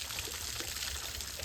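Water being poured, a steady rushing, splashing pour that holds an even level throughout, close and fairly loud with no voices.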